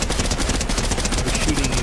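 Rapid video game gunfire crackles in dense, continuous bursts, loud and close, filling the short moment with no pauses.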